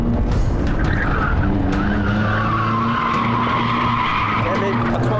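Drifting car tires skid and squeal through a long sliding arc during an All-Stars drift run, the loud screech riding over steady engine roar, with voices faintly under it.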